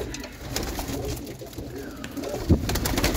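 Roller pigeons in a kit box coo softly and repeatedly at close range, with a few wing flutters and small knocks in the background.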